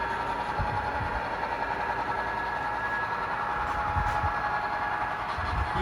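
A long coal train hauled by several locomotives rumbles past with steady low engine drone and continuous rolling rail noise, loud and close throughout, with no voices.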